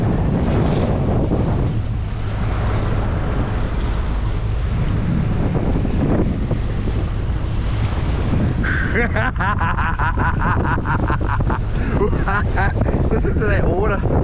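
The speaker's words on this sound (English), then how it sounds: "Listen to that water." Water laps around a moored boat, heavy wind buffeting the microphone throughout, and someone talks over the later part.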